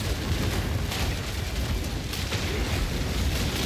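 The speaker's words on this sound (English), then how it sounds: "I think I hit one of those explosions by rolling through there." Continuous heavy rumbling blasts from explosions in a late-endgame Crimson Assault warrior game, loud and dense throughout with no speech.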